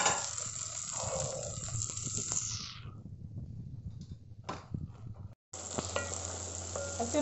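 Okra (bhindi) fries in oil with a steady, close sizzling hiss and faint crackles. The sizzle drops away briefly in the middle, then returns strongly near the end.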